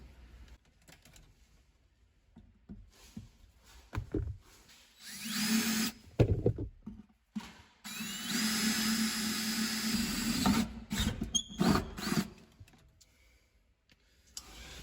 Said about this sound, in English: So we're gonna go ahead and drill us a hole real quick